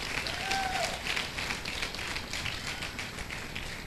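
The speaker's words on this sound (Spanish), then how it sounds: "Dale ese aplauso fuerte al Señor." A church congregation applauds during a sermon, a lively run of many hands clapping in a sustained, slightly uneven patter, with a brief voice or tone sounding near the start.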